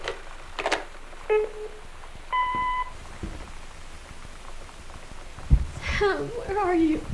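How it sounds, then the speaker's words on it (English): Electronic telephone beeps ring out in short tonal bursts, two or three separate tones in the first three seconds, in the video game Gone Home, followed by chirpy synthesized tones near the end while a voice talks. "Sam, answer the phone."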